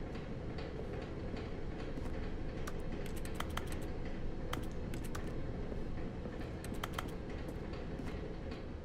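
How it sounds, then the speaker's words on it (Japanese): A computer keyboard clatters in The Stanley Parable: Ultra Deluxe, with quick bursts of crisp keystrokes in uneven clusters over a loud, steady, rumbling hum. "どこでもキーボードをカチャカチャする。"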